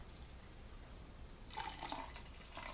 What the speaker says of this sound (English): Get a little bit of aggressive pour there.